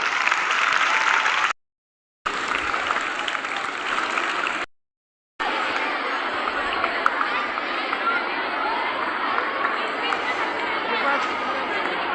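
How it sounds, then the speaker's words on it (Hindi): Children applauding at a school sports day festival, sustained dense clapping from a crowd with chatter mixed in, steady and fairly loud, broken by two brief gaps of silence. "बच्चों क्लापिंग होती रहनी चाहिए"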